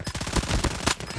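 Rapid automatic gunfire rattles in quick, evenly spaced bursts during a Call of Duty Mobile match, loud and close, with no talking over it.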